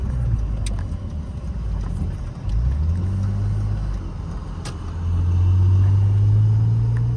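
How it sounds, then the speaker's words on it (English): A classic BMW inline six in a Roadster rumbles close by, idling low and then swelling into a deeper, louder throaty drone partway through, with no talking. "we've got that classic BMW throaty inline six sound"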